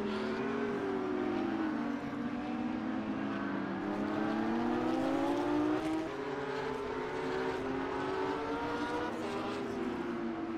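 Race cars drive and overtake one another at Estoril in an endurance race in a racing game, their engines droning loudly and steadily with rising and falling pitch as they jostle for position.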